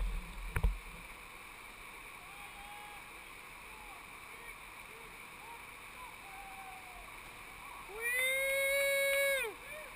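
A raft carrying several people drops over a log jump on Clear Creek, with steady rushing water throughout, a sharp splash near the start and a rising whoop of voices near the end.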